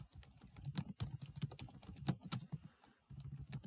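Rapid typing on a computer keyboard while entering custom CSS, a steady run of close, crisp key clicks with a brief pause near the end before the tapping resumes.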